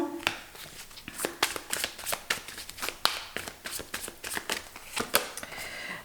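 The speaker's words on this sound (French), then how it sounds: "je vais tirer encore deux cartes" Tarot cards being drawn and shuffled during a card reading: a steady run of crisp, close riffling snaps and soft slaps, evenly spaced and quiet, with no voices over them.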